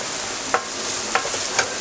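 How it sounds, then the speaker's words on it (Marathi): Chopped onion and capsicum fry in a pan for a bread masala breakfast dish, giving a steady close sizzle with three brief scraping stirs of a spatula spaced evenly through it, and no voices. "चांगलं फ्राय करून घेऊया।"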